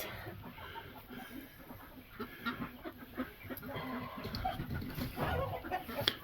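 Ducks on a homestead call in short clucking, quacking bursts amid a noisy outdoor background, fairly close and moderate in level, with activity picking up toward the end.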